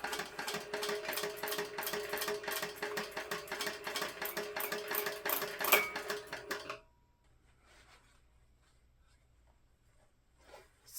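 A sewing machine top stitching a crossbody bag runs in a fast, steady rattling whir for several seconds, then stops abruptly, leaving near silence with faint handling sounds.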